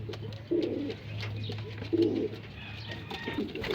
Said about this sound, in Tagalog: Ayan, bumaba na yung mga ibang ibon natin.